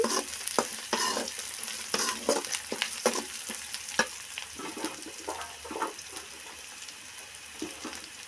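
Tomato chutney is stirred in a hot pan, with steady sizzling frying under repeated scraping strokes of a spoon, close and continuous.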